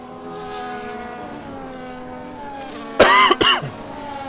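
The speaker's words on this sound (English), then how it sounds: "I do apologize for the cough." Two sharp coughs burst out near the end, loud and close, following a few seconds of steady humming drone.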